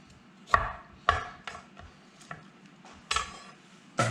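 A knife trims the ends off vegetables on a cutting board, giving about eight sharp, close taps at an uneven pace with faint kitchen clatter between.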